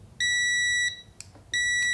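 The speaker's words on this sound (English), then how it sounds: "And just a basic continuity test, you'll hear this." Continuity beeper of a TESMEN TM 510 digital multimeter sounds two steady high-pitched tones, each lasting a little over half a second, close and loud with a brief pause and a small click between them.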